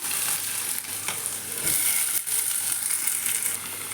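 Steady loud sizzling of ivy gourd frying in hot oil after mustard seeds, with a brief clatter of stirring midway and continuous crackle throughout.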